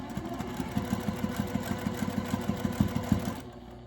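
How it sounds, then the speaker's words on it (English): A sewing machine stitches cotton quilt pieces together in a fast, even mechanical chatter that runs steadily, then stops abruptly near the end. "we're going to take this to the machine and sew this together"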